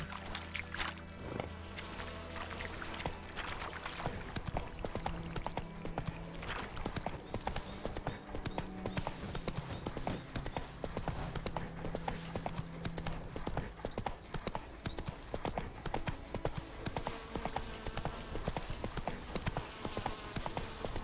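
Horse hooves galloping in The Witcher 3, with a fast, continuous, steady clip-clop rhythm close by and accompanied by soft background music throughout.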